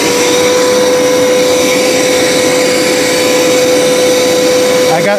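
A Hoover PowerScrub XL FH68050 carpet cleaner runs at full power, a loud steady motor whine with a strong constant pitched tone that holds for several seconds before it shifts slightly at the end.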